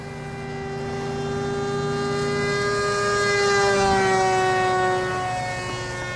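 An RCPowers Su-27 RC model plane on a 2S setup with an 8 inch propeller flying over an open park, its steady whining buzz swelling loudest as it passes close, then easing off with a slight pitch drop.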